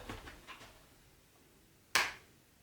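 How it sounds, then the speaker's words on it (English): A single sharp hand clap sounds once, close and alone, with a short decay into a quiet room. "I have to do a clap"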